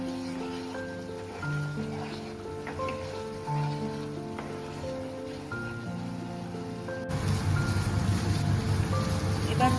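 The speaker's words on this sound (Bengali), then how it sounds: "ভালো করে এটাকে ভেজে নিতে হবে।" Pointed gourd peel paste frying in a pan, a steady soft sizzle that grows louder and denser near the end, with background music and no speech.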